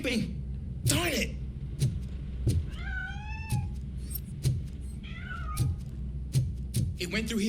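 Cat in the video game RoboCop: Rogue City, several distinct meows rising and falling in pitch over a low game background hum, interspersed with dull thumps and bursts of noise.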